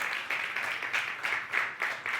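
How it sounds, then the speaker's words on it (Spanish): Moderate applause from a church congregation at a worship service, continuous clapping with slight swells, heard at some distance in a room. "le damos un aplauso al Señor"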